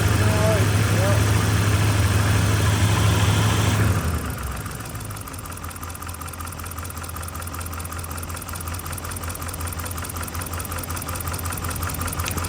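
A truck engine idles roughly and misfires with one injector wire pulled off. A loud burst of mixed noise fills the first four seconds, then a steady, uneven low idle with a knocking pulse runs close by to the end.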